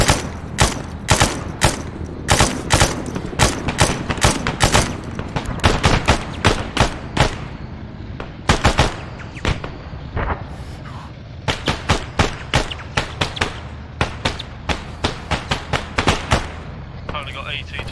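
Bursts of gunfire crack out in rapid, repeated volleys close by, loud and sharp, with intermittent voices between the shots.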